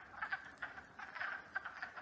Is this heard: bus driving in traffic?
no